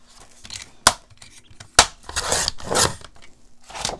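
Scissors snip through craft paper or cardstock pieces for a handmade no-sew Christmas journal, with two crisp sharp snips followed by longer rustling, crunching cuts close to the listener.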